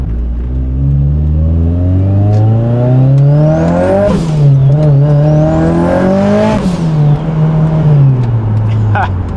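A fully built, tuned 2.3L Mitsubishi Evo making about 510 wheel horsepower revs hard on a dyno, climbing loudly through two gear shifts before falling back, with some voice underneath.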